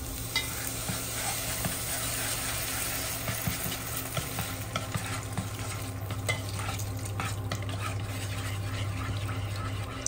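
Milk cooking with spicy instant noodles in a pan over low heat bubbles and sizzles softly and steadily, with quiet, irregular scraping and tapping from a stirring utensil and no speech.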